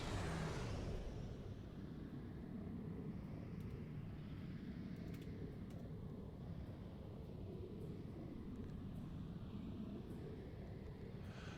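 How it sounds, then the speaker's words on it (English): Starship slipstream drive in the space game Star Trek Online, a steady loud low rumbling roar with a rushing hiss above it, swelling at the start and then holding constant throughout, no voices. "All right, slipstream up again."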